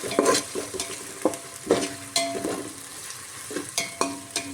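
Coriander paste being stirred and fried in hot oil, with a spoon scraping and clattering against the pan in irregular strokes over a steady soft sizzle.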